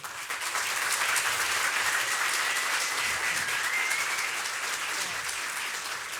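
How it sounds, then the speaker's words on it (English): Sustained applause from a crowd, dense and even, continuing steadily for several seconds at a moderate distance. "let's give a round of applause again to our city clerk"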